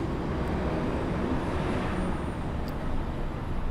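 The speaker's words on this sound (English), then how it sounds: "That bus is going to be loud." A loud bus rumbles past outside a courthouse, a broad, steady engine and road roar that fills the scene, with no talk over it.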